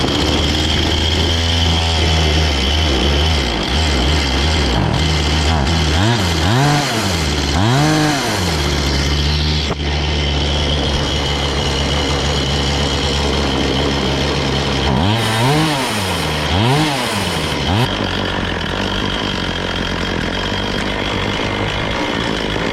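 A two-stroke chainsaw engine being tuned at the carburetor runs loud and close, idling roughly and then revving up and down in repeated swells, with a steady buzzing drone throughout.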